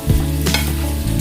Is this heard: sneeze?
no